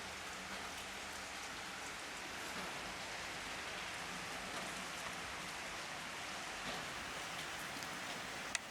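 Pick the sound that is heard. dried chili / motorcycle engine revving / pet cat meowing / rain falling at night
rain falling at night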